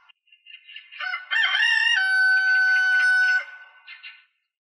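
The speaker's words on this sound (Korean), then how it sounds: "또 한 번 마을에서 닭이 울었다." A rooster crows once in a village, a long drawn-out cock-a-doodle-doo that rises, holds steady and trails off, clear and close against an otherwise quiet background.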